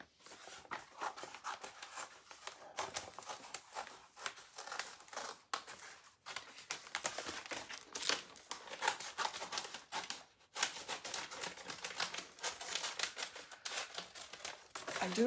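Scissors snipping through paper transfers at a craft table, a busy run of crisp cuts and rustling paper crinkles with a few short pauses, close and fairly quiet throughout.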